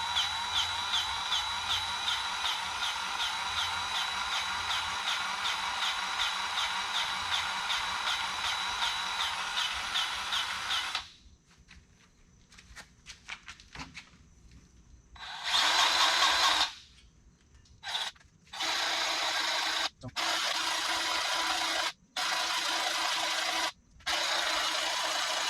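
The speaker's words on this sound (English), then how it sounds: "we're gonna go get the grease gun" Power tool whirring in long steady runs, then in short bursts separated by silence, near and loud, while working on a John Deere 2010 engine that has sat for over twenty years.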